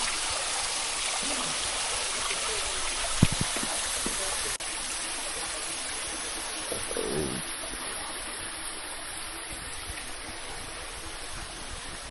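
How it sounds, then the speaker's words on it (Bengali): A hill stream rushing through jungle near a village in Jharkhand, a loud steady broadband roar of flowing water close by, with a brief knock and a faint voice-like murmur partway through. "পুরো পাহাড়ি ঝর্ণা, জঙ্গলের মধ্যে"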